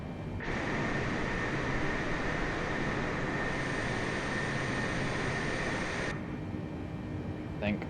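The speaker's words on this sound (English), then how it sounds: "it's our APU that just spooled up" A Boeing 747-8i auxiliary power unit spools up in a flight simulator, a steady broadband jet roar and whine that holds for several seconds, then cuts off abruptly near the end.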